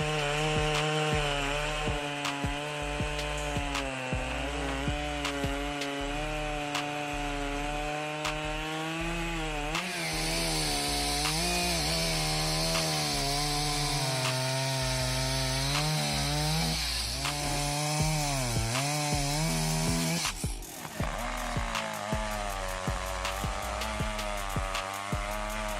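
A chainsaw cuts through big wood, its engine screaming at a high, steady pitch that bogs and rises as the chain bites, loud and continuous throughout with no talking.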